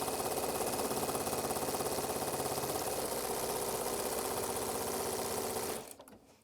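A sewing machine runs steadily, stitching straight lines of a long, thin tree shape on a Christmas tree pillow. It keeps a fast, even mechanical rattle up close for about six seconds, then stops abruptly.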